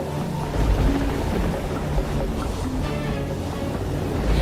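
A violent storm at sea roars with wind and crashing waves, loud rumbling surges rising and falling under a constant blustery wash.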